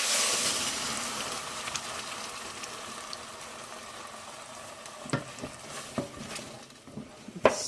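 Canned pasta sauce being stirred into onions in a pot, with a steady soft sizzle and bubbling throughout, then a few sharp spoon clinks against the pot near the end.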